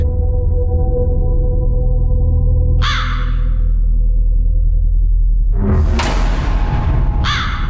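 A crow caws loudly and close by several times, harsh repeated calls over a steady low rumble, with no talking.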